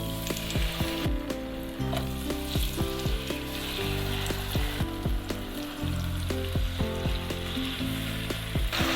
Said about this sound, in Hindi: अब जो हमने पीस मैरिनेट करके रखे हैं वो इसके अंदर डाल देते हैं।